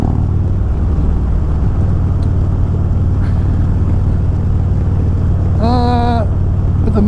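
2023 Harley-Davidson Road Glide Special fitted with an aftermarket cam, heard while riding: a constant loud, low rumbling drone, with a brief voice near the end.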